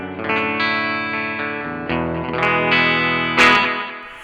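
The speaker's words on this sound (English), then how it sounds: "or I can turn on my delay." Electric guitar played through a Mooer preamp with delay switched on, sustained chords and notes ringing loud and close, with repeats trailing behind each strike and no talking.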